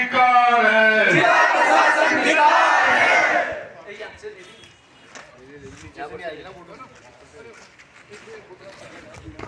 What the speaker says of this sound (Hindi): यहाँ बहुत ज़्यादा भीड़ है